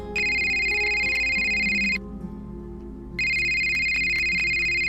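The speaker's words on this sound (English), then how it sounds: "And then my phone rang." A phone rings loudly and close, two long electronic tone bursts separated by a short gap, over a low steady background hum.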